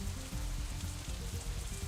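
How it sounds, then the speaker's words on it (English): Rain falls steadily outside in the visual novel Katawa Shoujo, a soft continuous patter with low rumbling undertones, even and unbroken throughout. "it's still raining outside when we exit the Shanghai, though it seems to be letting up a little"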